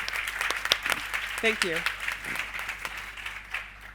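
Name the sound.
round of applause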